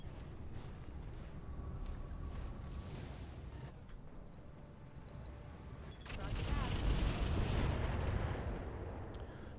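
Incendiary weapons firing in the mech combat game Battletech, with the Roguetech overhaul mod: a rumbling run of muffled blasts with creaking mechanical noise, swelling into a louder, heavier burst near the end.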